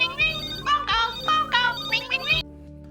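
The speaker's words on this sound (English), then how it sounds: "A phone call? Who could that be?" A phone rings in the Pokémon Teal: Adventures in Zonoa video game: a run of bright, chiptune-style electronic ring bursts in a steady repeating pattern, loud and alone, cutting off abruptly near the end.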